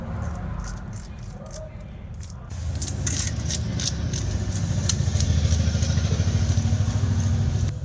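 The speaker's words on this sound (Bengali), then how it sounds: "আমি একটা এরকম হাত ঘুরানো চাকতি নিয়েছি, এতে খুব সুন্দরভাবে মাছের আঁশ উঠে যাবে।" A hand-cranked disc scaler scrapes scales off a hilsa fish, making a steady, close rattling scrape that grows louder and denser after the first few seconds, with no talk.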